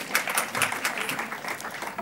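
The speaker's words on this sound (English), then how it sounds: "Thank you for clapping" An audience at a community sector talk claps in a brief patter of scattered hands. The applause is moderate and steady, and no one speaks.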